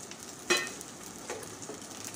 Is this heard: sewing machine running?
no